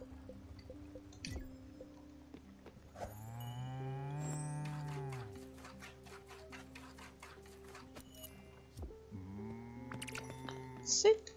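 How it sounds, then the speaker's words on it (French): Cartoon cow in the farming video game Spiritfarer gives two drawn-out moos, one long and one shorter, over soft plucked game music and light dripping effects. "J'entends ma vache qui meugle."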